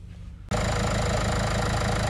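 After a short quiet moment, the 1.5 dCi diesel engine of a Renault Clio Sporter starts up and settles into a steady, loud idling clatter.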